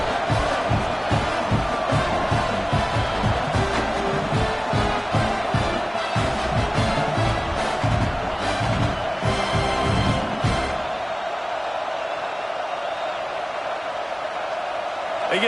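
A stadium crowd roars after a Tennessee opening-kickoff return touchdown against Michigan, a dense, loud sustained cheer that fades somewhat near the end, with voices audible within the noise.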